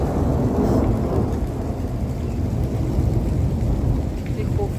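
Heavy rain with rolling thunder hangs in a dense, loud rumble that holds steady throughout, thick low roar without clear breaks, and no voices heard.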